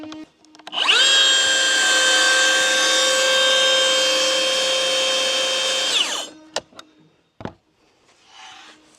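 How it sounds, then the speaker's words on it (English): Jigsaw cutting AZEK PVC exterior trim, a loud steady buzzing whine lasting about five seconds up close, followed by a few clicks and knocks as the tool stops. "I'll come by with my jigsaw and finish it up"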